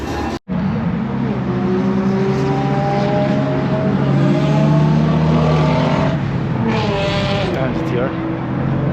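Boosted 3V car with a 10-speed transmission accelerating hard, a loud close engine roar climbing in pitch through a gear change, then revving up again, with voices talking over it.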